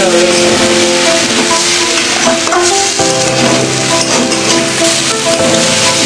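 Spices, chilli and salt fry in a pan for Bengali khichuri, giving a loud, constant close sizzle with steady crackling and occasional stirring scrapes throughout.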